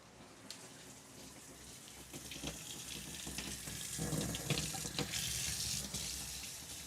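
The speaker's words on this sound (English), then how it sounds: "Hot water." Hot water runs steadily from a tap into a sink, a continuous broadband hiss that swells slightly louder partway through, with a few faint clinks and splashes, and no talk.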